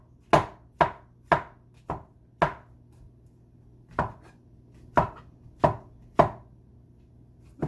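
A knife slices through a vegetable stem on a cutting board, landing ten crisp, evenly spaced chops with a short pause partway through, close and clear against a quiet room.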